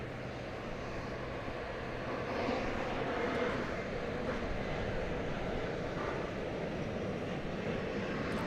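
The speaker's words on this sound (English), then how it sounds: "Here comes a flight from Kansas." A jet flying at DFW Airport on arrival from Kansas produces a continuous, moderately faint engine rumble and hiss, rising slightly and holding steady with little talk.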